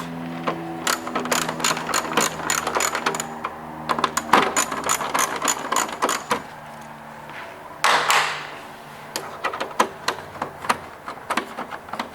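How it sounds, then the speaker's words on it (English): A 5mm Allen tool works a part off a Honda Gold Wing headlight, making a series of sharp metallic clicks and ratcheting taps, close and uneven, with a small part clattering as it drops. "This is using a 5mm Allen tool to get this off."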